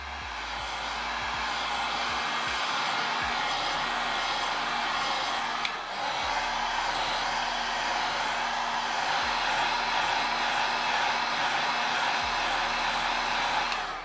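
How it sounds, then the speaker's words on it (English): Heat gun blowing hot air back and forth over a Jordan 12 French Blue sneaker, a loud continuous close whooshing blower hum that keeps going with little change throughout. "Angle your heat gun and gently pass it back and forth"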